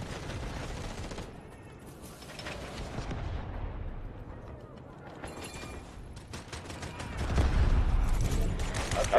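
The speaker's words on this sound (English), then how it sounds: "Smoke barrage ready." Smoke barrage artillery in a video game: a rolling series of distant booms and crackling blasts that swell toward the end, with game voices faintly underneath.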